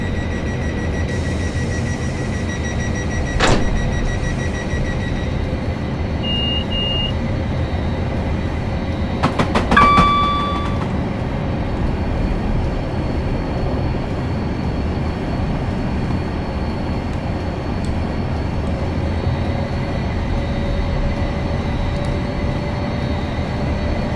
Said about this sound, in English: that class 444 departs for London Waterloo